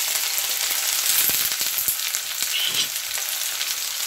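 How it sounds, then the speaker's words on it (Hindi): Asafoetida, cumin, chopped onion and green chilli hit hot oil with a loud, dense hiss and sizzle close by, steady throughout, with a few faint taps of a spoon. "तेल गर्म हो गया है, अब इसमें डालेंगे हींग और जीरा, कटे हुए प्याज, हरी मिर्ची ऐड कर देंगे।"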